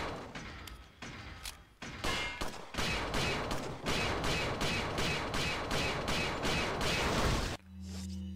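Rapid gunfire from the Resident Evil 4 video game, a dense volley of loud shots and bursts that runs for several seconds before cutting off abruptly, with no talk over it.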